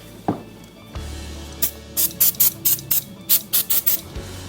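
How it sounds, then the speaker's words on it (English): Starting fluid is sprayed from an aerosol can onto the brake rotor of a 2006 Chevrolet Silverado 1500, in about a dozen short hissing bursts in quick rhythm after a couple of isolated taps, close and clear over a low hum. "We're going to try starting fluid, which should do the same thing."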